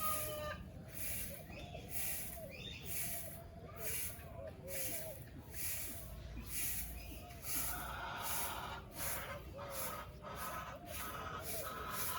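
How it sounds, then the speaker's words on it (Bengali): Chickens and ducks cluck and murmur close by with rapid, repeated calls, mixed with rustling and soft background voices. "এই যে মা এখন হাঁস মুরগি বের করতেছে"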